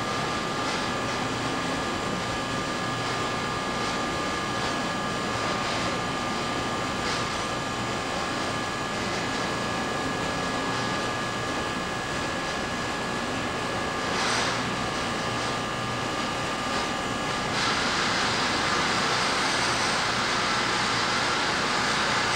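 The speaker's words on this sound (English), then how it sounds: "Sound you hear in the background is the vibratory feeder feeding the wood out of the tank" Vibratory screw feeder pushing wood out of a tank, a steady droning hum with a constant tonal whine and faint rattling, continuous throughout and shifting slightly brighter near the end.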